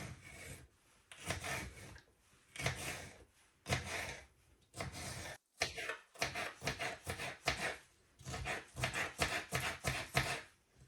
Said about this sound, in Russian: Острый перец очищаем от семян и затем нарезаем мелкими кубиками.